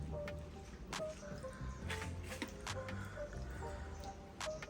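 Water from a bottle splashes onto a car's ceramic-coated paint, making soft, faint squirts and drips in short, uneven bursts. No voices.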